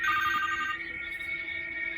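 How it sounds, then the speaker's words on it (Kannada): A telephone rings with a steady electronic tone that holds loud and unbroken across two seconds, with no voices over it. "ಗುಂಡ ಫೋನ್"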